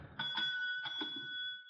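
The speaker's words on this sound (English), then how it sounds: "Here's a bell." A service bell rung at the front desk of the Chelsea Hotel in a radio drama, struck twice in quick succession with bright ringing tones that sustain and fade, alone without talk.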